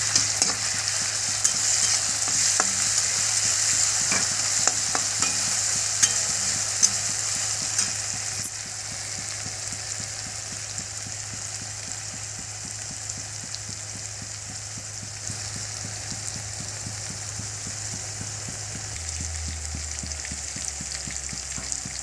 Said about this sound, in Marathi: हिरवी मिरची टाकू. परत परतून घेऊ.